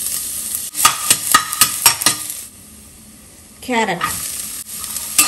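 Garlic and carrot sauté in oil for millet fried rice: a loud, close sizzle with bursts of spatula scraping against the pan, a short quieter stretch, then renewed frying with a brief voice over it.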